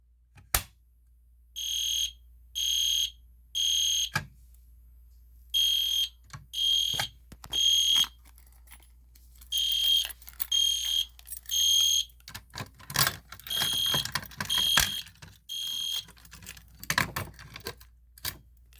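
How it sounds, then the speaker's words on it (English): An EST Genesis and Gentex Commander 3 fire alarm system sounds during a pull-station test, giving repeated loud electronic horn blasts in a steady on-off pattern, broken up by sharp clicks and rattles near the end. "So let's just try to pull a fire alarm again and see how it's supposed to work."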